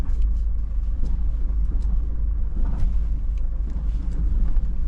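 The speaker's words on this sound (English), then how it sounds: "We do have hill descent control here, so I just hit that button and it will automatically keep the vehicle stable and nice and steady." A 2024 Toyota LandCruiser 70 Series dual-cab crawls downhill on hill descent control, giving a steady low engine rumble with wind buffeting and faint scrapes and knocks from inside the cabin, and no talking.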